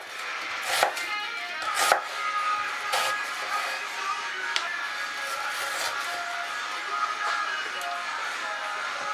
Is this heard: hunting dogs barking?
no